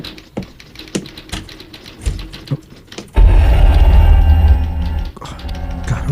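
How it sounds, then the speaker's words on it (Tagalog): Typewriter keys clack in quick irregular strikes, close and sharp, before a louder mechanical whirring rumble takes over for a couple of seconds and then eases back to scattered taps. "Dunay nag-type sa makinilya."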